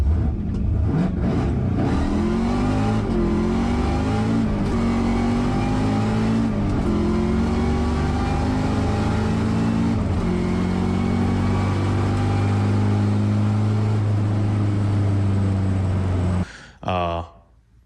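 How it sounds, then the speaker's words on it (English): A Chevrolet Nova at a drag strip revs hard with a slipping clutch, engine pitch climbing and sagging repeatedly as it strains under load, loud and close, then cutting off abruptly near the end. "I took the car to the drag strip. The clutch was slipping."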